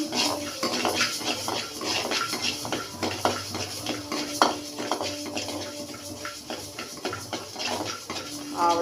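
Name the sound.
dry-roasting lentils and peanuts in a pan, stirring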